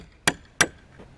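Two sharp, close hammer blows drive a bolt through a tight hole in a wooden double gate, followed by a fainter third tap.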